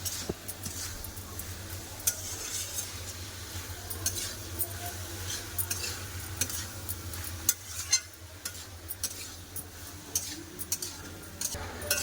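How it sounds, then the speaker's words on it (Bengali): Spices are stir-fried with bottle gourd greens in a pan, producing a soft, low-level sizzle with frequent sharp utensil ticks and scrapes against the pan and a faint low hum; no talking. "এবার মশলাগুলো ভালো করে কষে নেবো শাকের সাথে"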